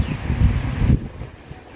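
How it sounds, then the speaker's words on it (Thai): Wind gusts buffet the microphone on a forest path down toward a Luang Pu Thuat shrine near the sea, a loud low rumble that drops off abruptly into quieter rustling. "ลมพัดดีๆนะครับ"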